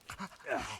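A dog in a survival video game pants softly in quick, breathy puffs, quiet and brief, with no voices over it.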